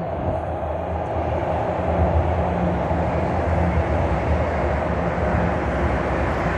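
Steady low rumble of a subway train at York University station in Toronto, a continuous broadband roar filling the platform with no voices over it.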